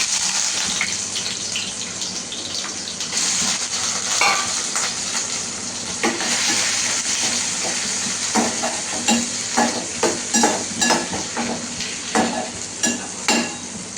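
Steady sizzling and crackling of shrimp frying in hot sesame oil, with stirring clatters growing more frequent toward the end, close and loud, no talking.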